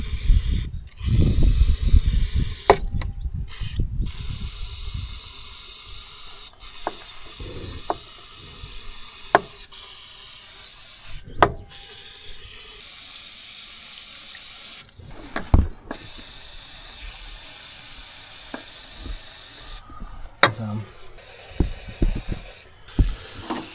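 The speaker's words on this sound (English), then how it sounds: "We'll put a bit of lubricant down there and see if we can get those freed up" Lubricant is sprayed onto the travel motors of a vintage JCB excavator left abandoned by a beach, heard as a series of short hissing bursts separated by pauses, close and without speech.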